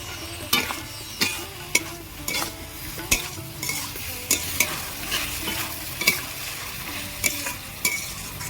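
Fried potatoes are stirred and sautéed in a spiced gravy, with a crackling sizzle beneath regular, sharp scraping strokes of a spoon against the pan, roughly every half second, up close.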